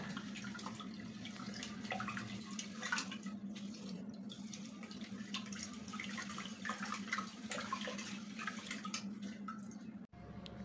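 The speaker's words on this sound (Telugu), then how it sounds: "ఈ లోపల నేను రైస్ని కూడా కడిగి స్టవ్ పైన పెట్టేస్తాను" Rice being washed in water in a home kitchen, a steady wet swishing and trickling with drips, close and continuous, with a brief break near the end.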